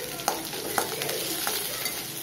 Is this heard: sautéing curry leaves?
yes